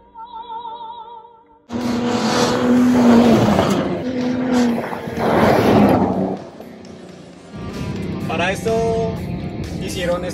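A Ford F150 Raptor pickup in low range accelerates at full throttle over rough off-road ground, its engine roaring loud and close with rising and falling revs, while a voice talks over it.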